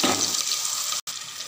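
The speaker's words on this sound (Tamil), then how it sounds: "கடுகு பொரிஞ்சிட்ருக்கு." Mustard seeds splutter in hot oil in a pan for soup, a steady dense crackling hiss that continues throughout apart from a brief dropout.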